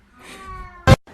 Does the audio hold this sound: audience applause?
no